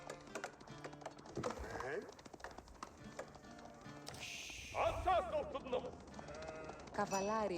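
Sheep bleating in the Age of Empires 4 real-time strategy game, a few short bleats mixed with game effects and whip-like cracks while a commentator talks over most of it.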